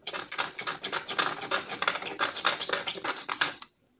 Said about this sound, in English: I'm just gonna kind of scrape it with an X-Acto knife.